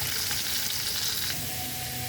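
Potatoes fry in oil and ghee in a frying pan with a loud, dense hiss up close. Faint stirring clicks sound over the sizzle, which softens slightly partway through.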